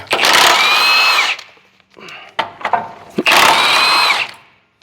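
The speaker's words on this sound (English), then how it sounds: "Now I'm gonna unbolt the transmission mount." A loud power tool whirs in two long bursts close up while unbolting a Ford Ranger transmission mount, with clanks and rattling of metal parts in the pause between them.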